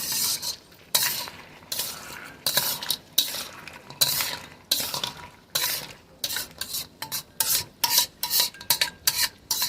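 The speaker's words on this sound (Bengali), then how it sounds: "কাঁকড়াগুলোকে ঢাকা দিয়ে দিয়ে ভালো করে কষিয়ে নিতে হবে।" Crabs being sautéed in a pan, with loud rhythmic scraping strokes of a spatula over a sizzle, speeding up into quick repeated bursts toward the end.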